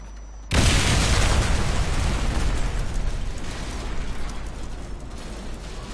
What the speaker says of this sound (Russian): Бомба взорван.